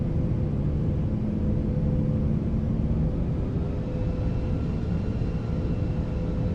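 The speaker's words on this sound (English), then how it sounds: "Let's see what these engines sound when we spool them up." Simulated Airbus A340 jet engines spool up in Microsoft Flight Simulator, a steady loud broadband rumble with faint rising tonal whines held throughout, with no talk over it.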